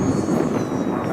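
An L-39 Albatros RC jet with an 80mm electric ducted fan flies overhead, its whining, whooshing fan noise filling a brief second-long moment, fairly loud and close.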